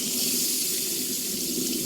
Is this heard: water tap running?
yes